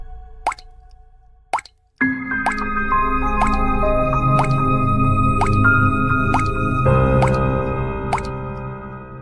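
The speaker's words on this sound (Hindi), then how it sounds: "चिड़िया लगातार पत्थर डालती रही और उसने एक एक करके सारे पत्थर उस घड़े में डाल दिए।" A few separate plops, then a run of drips and splashes as stones drop one after another into a water pot, ringing against a steady background tone.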